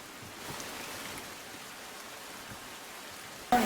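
Steady heavy rain falls over the town of Viramgam in Gujarat during a morning downpour, a dense, even hiss of drops on surfaces that holds throughout, with a sudden louder burst of noise at the very end.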